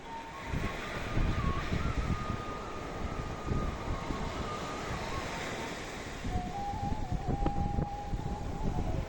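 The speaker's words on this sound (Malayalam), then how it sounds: "നല്ല തിരകളൊക്കെ വന്ന് അടിക്കുമ്പോൾ അത് കറക്റ്റായിട്ട് ഷൂട്ട് ചെയ്യണേ" Rough sea waves crash on the shore in a dense, continuous roar with gusty wind buffeting the microphone and a faint high wailing tone drifting through, and no voices.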